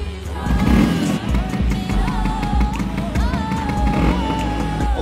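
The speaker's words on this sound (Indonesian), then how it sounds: "gue bakal kasih unjuk gimana suara dari mesin 177cc punyanya Malosi" A Vespa scooter's 177cc Malossi engine revs repeatedly, its pitch rising and falling in loud bursts over a busy, rattly idle close by.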